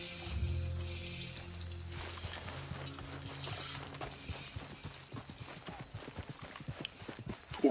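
A horse walking in the video game Red Dead, with faint, steady clip-clop hoofbeats in an even rhythm beneath soft ambient game sound, growing slightly more distinct toward the end.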